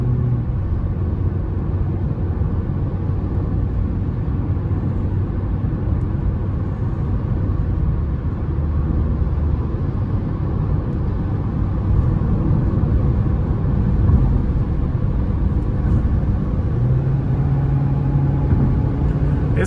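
A 2022 Citroën C4 Cactus Feel's engine drones steadily while accelerating up through the gears, a constant mid-loud hum with road rumble and no pauses between shifts.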